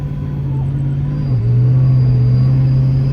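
A Dodge Charger R/T with a 3.0 Whipple supercharger runs at low throttle with a steady loud engine drone. A thin high supercharger whine sits faintly above it, close inside the car.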